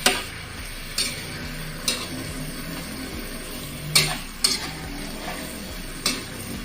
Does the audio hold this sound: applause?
no